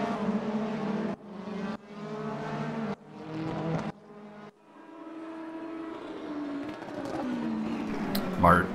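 BMW race cars, including Red Bull and Shell liveries, pass through a chicane in a video game race, their engine notes rising and cutting in quick bursts under a commentator's voice.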